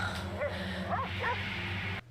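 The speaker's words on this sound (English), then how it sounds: "Dogs bark at ghosts." A dog yips and whimpers in a few short high calls over a low droning background in a spooky Goosebumps story played aloud, ending in a sudden cut.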